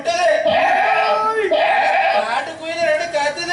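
In a Tamil stage drama, a performer's voice imitates goats bleating in repeated quavering calls, loud and close, separated by short pauses.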